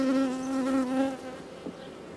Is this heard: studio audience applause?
no